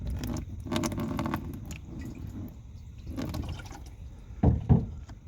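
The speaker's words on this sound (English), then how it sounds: "I figured I'd put a funnel in there just in case, and it does kind of dribble all over the place" Water dribbles through a funnel into a gray water tank in a car, with bursts of gurgling flow and splashing, pauses between pours, and louder sloshing near the end.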